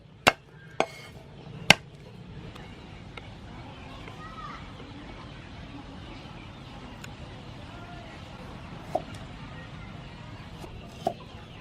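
Chili being pounded for chili sauce gives a few sharp, isolated thuds, three close together early on and two more spaced later, over a low, steady outdoor background.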